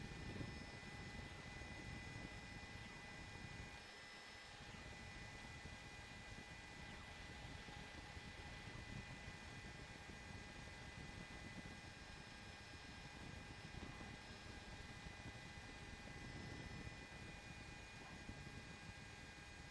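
A continuous helicopter engine drone hums steadily overhead during a police chase in Los Angeles, with a constant mechanical whine that never fades.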